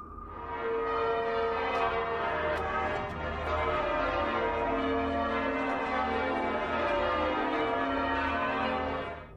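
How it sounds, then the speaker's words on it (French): Church bells ringing outside a cathedral in New York, a loud, sustained resonant peal with overlapping strikes and long ringing tones. "Les cloches sonnent"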